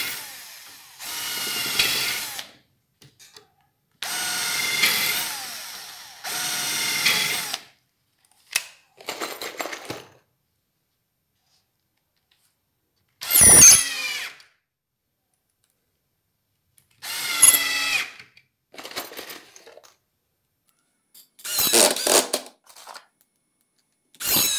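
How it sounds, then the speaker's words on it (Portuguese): A power drill drives screws into a wooden bedside table box in repeated short whirring bursts, several separate runs broken by silent gaps and a few clicks, heard close up. "Vou só parafusar aqui."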